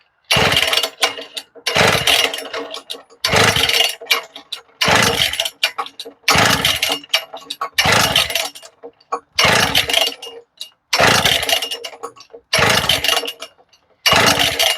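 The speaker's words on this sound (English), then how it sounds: "We'll get it till it stops cranking up here, and I'll let you see what the compression is" A two-stroke Husqvarna K970 concrete saw is cranked over repeatedly during a compression test, with about nine loud, even bursts of starter-cord pulling and engine turnover separated by brief pauses, heard close up and without speech.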